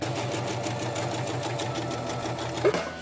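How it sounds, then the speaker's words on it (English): A sewing machine runs steadily for a few seconds while stitching the seams of a caftan, its even mechanical whir close and loud with no talking over it. "So now we're gonna sew this bad boy."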